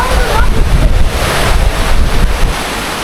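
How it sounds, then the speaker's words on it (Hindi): Fast, cold river water rushes steadily in an outdoor mountain setting on the way toward Sonamarg, a loud continuous roar blended with heavy wind buffeting the microphone. "ये तेज़ बहता हुआ पानी, और ये पानी बहुत ठंडा होगा।"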